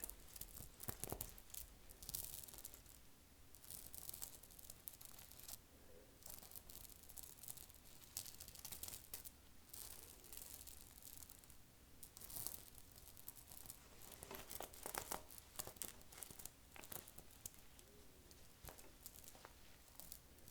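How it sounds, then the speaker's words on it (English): Dense clicking and crinkly rustling of small beads on a vintage purse being rubbed together, continuous and close, with no talking. "See if I can make some bead noises for you."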